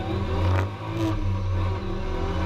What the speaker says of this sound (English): 4 more cars fly by.